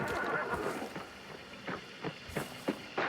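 A horse in a video game neighs in a short whinnying burst, followed by several faint hoof clip-clops spaced out at a moderate distance, with no talking over it.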